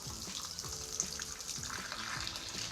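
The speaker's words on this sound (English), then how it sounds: "I'm going to start by turning our water on." Water runs steadily from a Delta faucet, a continuous close hiss and splash with no pauses or talk.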